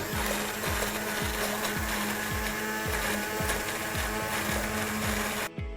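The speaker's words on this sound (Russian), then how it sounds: "Теперь мы малину уберем с плиты и пробьем погружным блендером." An immersion blender whirs steadily with a rhythmic, pulsing churn as it purees cooked raspberries, then cuts off abruptly at the end.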